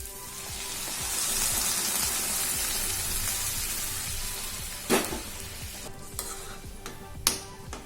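Steady sizzling and bubbling from a hot pan of soya chunk gravy as water is added, a spoon stirring and scraping, a few sharper clinks near the end; no voices.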